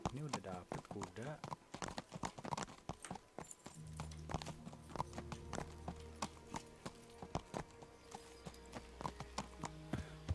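Horse hooves clip-clop at a steady rhythmic gait as a rider travels in the medieval game Kingdom Come: Deliverance, with a low rumbling layer underneath and occasional game sounds; a person speaks intermittently over the riding.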